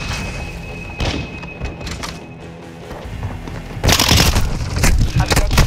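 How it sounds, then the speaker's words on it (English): A stun grenade goes off in Call of Duty Modern Warfare 2 multiplayer: muffled thuds and crunching impacts, then a loud bright burst of cracking noise near the end amid game radio chatter. "Throwing a stun grenade."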